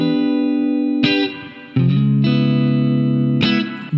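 Sustained electric guitar chords ring through a Positive Grid Spark practice amp with light distortion, struck again twice with brief gaps, loud and close, no voices.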